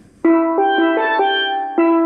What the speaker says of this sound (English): Steel pan.